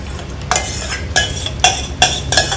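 Tomatoes are stirred into a spiced, chilli-seasoned chutney in a pan, with five loud, regular scraping strokes of a spoon against the metal over a continuous sizzle, close up and without talk.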